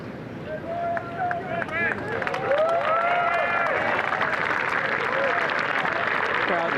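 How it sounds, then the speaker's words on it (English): A large gallery crowd at the Masters golf tournament cheers and shouts encouragement, a swelling roar of voices and whoops building and holding loud outdoors, with individual yells standing out. "Crowd is trying to pump him up, get him restarted"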